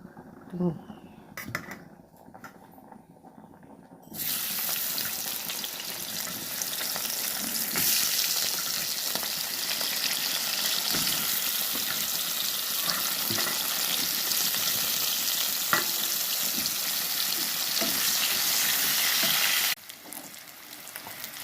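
Raw banana slices fry in a pan with a loud, continuous hissing sizzle that sets in suddenly and holds steady for about fifteen seconds, with a voice talking briefly before it starts.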